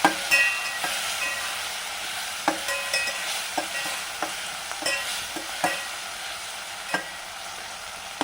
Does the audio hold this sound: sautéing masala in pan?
yes